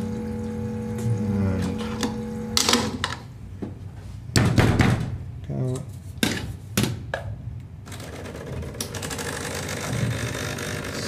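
An espresso machine refills its water reservoir with a pump hum and gurgle, broken by a series of loud knocks and clunks from cleaning up, close by and without speech.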